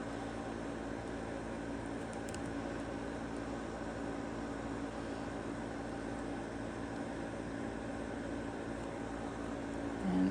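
Steady broadband hum of an air conditioner running through summer heat in a room, constant and fairly loud from start to finish with no talking.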